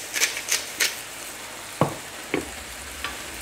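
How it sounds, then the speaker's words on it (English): A spoon scrapes and stirs through a chicken carbonara sauce in a pan, giving a few sharp clacks and scrapes spaced over several seconds against a soft background sizzle. "give that a bit of a stir through as well"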